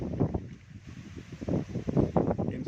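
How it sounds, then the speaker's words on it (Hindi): Strong wind blowing in gusts before a storm over farm fields, a close, buffeting rush on the microphone that swells and drops in irregular bursts. "ये देखिए आंधी आ रही है, बहुत तेज़ हवा है, बहुत तेज़ हवा चल रही है"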